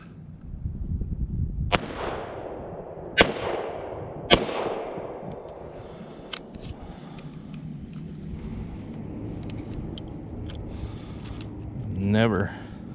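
Three sharp gunshots from a Kel Tec CP33 .22LR pistol ring out at irregular intervals, each with a short echoing tail, while people talk over a steady outdoor background.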